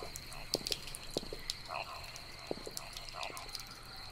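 Frogs croak in the video game Loveland, a faint, scattered chorus of short calls over a steady insect-like hum, with a few sharper clicks breaking through.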